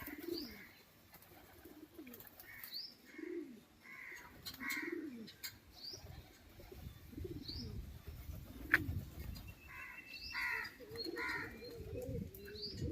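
Pigeons coo repeatedly in low, rolling calls, with occasional chirps and faint wing flutters scattered throughout, moderately close.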